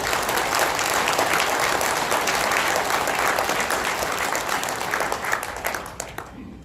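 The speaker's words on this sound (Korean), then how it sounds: "한 번 더 격려의 박수" An audience at a 2019 policy forum applauds with sustained, dense clapping that holds steady and then tapers off toward the end.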